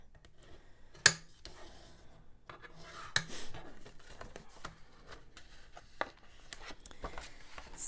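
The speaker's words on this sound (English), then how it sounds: "I'm going to take your bone folder and we're going to burnish the score lines" A bone folder burnishes score lines on card with soft, scraping back-and-forth strokes, quiet and close, broken by a few sharp taps and clicks.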